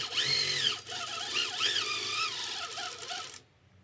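Quilting machine stitching around applique shapes on a quilt, a whirring mechanical hum with rising and falling motor pitch, running steadily then stopping abruptly.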